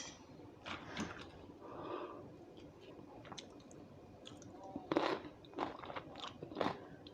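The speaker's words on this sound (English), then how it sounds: "Let me have a bite." Someone bites into a simple purple cabbage salad and chews, giving a series of soft, close crunches and moist squishes with short pauses and no talking.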